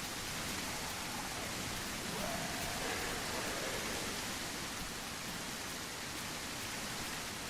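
Steady, faint rain hisses continuously through a medieval zombie video game set in England, an even wash of drops with no talk over it.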